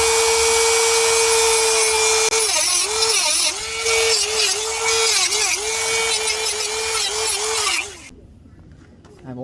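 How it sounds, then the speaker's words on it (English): A Dremel rotary tool cuts small welds on a Can-Am off-road vehicle door, a loud, high, steady whine that dips repeatedly as the wheel bites into the metal, then stops abruptly. "So I'll try and cut them off with my Dremel."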